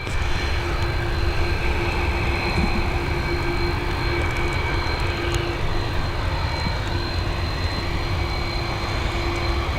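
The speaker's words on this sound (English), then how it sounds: "There you go, she's up and away, landing gear safely stowed" A jet airliner climbs away after takeoff from runway 10R at Dublin Airport, a steady, loud, broadband engine roar with a thin tonal whine that holds for the whole span, with no voices.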